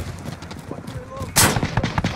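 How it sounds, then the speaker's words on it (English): Gunfire in Call of Duty Modern Warfare team deathmatch rings out as a sudden loud, sharp blast, followed by a few more shots over busy game noise and a voice speaking. "I'm taking fire."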